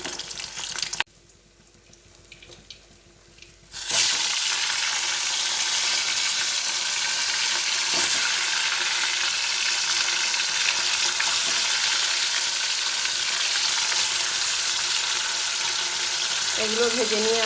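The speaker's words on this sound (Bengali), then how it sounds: "এবার একে একে আমি সব মাছগুলো ভেজে নেব।" Fish fry in hot oil in a home kitchen, a steady loud sizzle running unbroken after a quieter stretch at the start, with faint scraping and stirring underneath.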